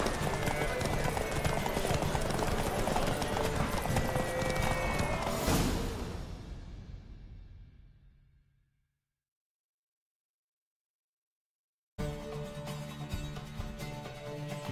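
Roach, Geralt's horse in The Witcher 3, gallops in a race with steady, loud hoofbeats that fade out into silence before game sound returns.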